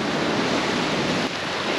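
Ocean waves surge through a split between rocks on a Oaxaca beach in Mexico, a loud, continuous roaring wash of surf mixed with wind rumble, with no voices.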